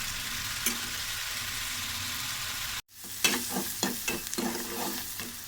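Vegetables with spices being stir-fried in a pan for a home-cooked lunch, a steady close sizzle broken midway by a brief drop, then scraping stirring strokes and clinks over continuous frying.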